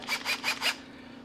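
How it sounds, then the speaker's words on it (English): A gas dryer being reassembled, with Phillips screws driven back in: four quick, evenly spaced rasping bursts of a driver bit turning screws, close and fairly quiet, then stillness. "we're going to put these 4 screws back in"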